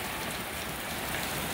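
Steady rain pours outside a garage in Florida, a dense, even hiss of drops hitting surfaces with no other sounds.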